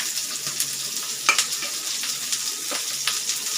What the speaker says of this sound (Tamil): இப்போ இதை நல்லா வதங்கட்டும்.